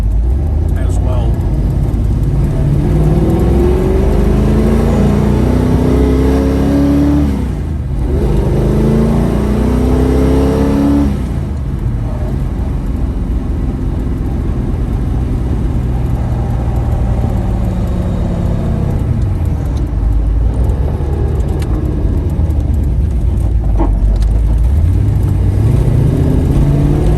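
A 1981 Chevrolet Camaro Z/28 Pro Touring driving along, its engine a loud, steady drone that rises and falls through repeated revving sweeps, with talk over the top.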